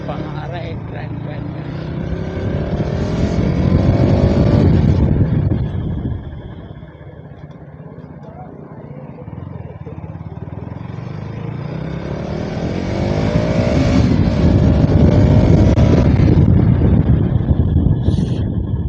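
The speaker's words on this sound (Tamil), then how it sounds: "வண்டி பார்த்தீங்கன்னா செம்ம ஒரு காத்தாட்ட பறக்குது" A KTM Duke 200 motorcycle rides along, its engine droning and swelling twice in strong bursts with heavy wind rush over the microphone, steady and close throughout.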